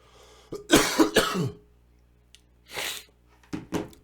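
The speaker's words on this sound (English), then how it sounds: "when that coughing starts up, it's just hard to make it stop" A close, harsh burst of several coughs in quick succession, then a pause, followed by two more separate coughing fits, loud against a quiet background.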